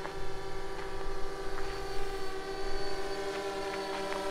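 A DJI Phantom 2 Vision Plus quadcopter drone flies outdoors, its propellers giving a steady high whine that holds at a constant moderate level from nearby throughout.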